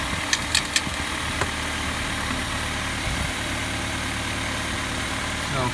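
A car engine idles steadily with a continuous low rumble and vibration, a few light taps and clicks sounding near the start.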